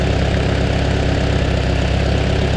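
A Farmall Super A tractor engine idles steadily and loud up close, one spark plug loose, its low, even chug holding without a break.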